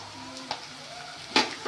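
Garlic, curry leaves and green chillies sizzle steadily in hot oil in a frying pan for a Tamil-style mutton blood fry, a soft continuous crackle broken by a couple of stirring scrapes.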